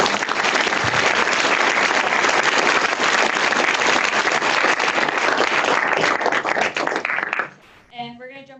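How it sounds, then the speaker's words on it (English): An audience at a talk on the rise of Alibaba gives sustained loud applause for about seven seconds, then it fades quickly and a voice begins speaking. "let's give a big round of applause to Mr."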